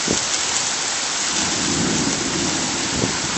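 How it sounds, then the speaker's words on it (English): Thunder rumbles low through a heavy rainstorm, a deep roll at the start and another near the end beneath a constant loud wash of falling rain. "And a bit of thunder."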